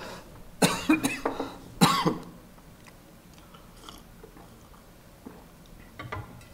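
Two harsh, close coughs about a second apart, followed by quieter rustling and small mouth noises.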